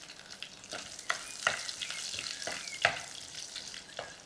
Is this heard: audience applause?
no